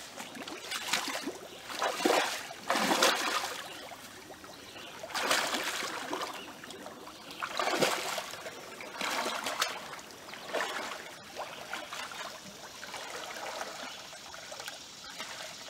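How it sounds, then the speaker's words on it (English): A poncho raft pushed through water makes soft, irregular sloshing and splashing swells that rise and fall every second or two, fairly faint and close, with no talking. "Got the poncho raft and we're heading into the water."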